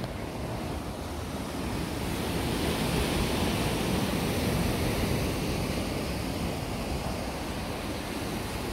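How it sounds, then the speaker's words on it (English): Steady roar of ocean surf at Long Bay, Portland, Jamaica, with broad, rushing wash and some wind, continuous and fairly loud throughout, no voices. "You can hear the ocean, like, listen."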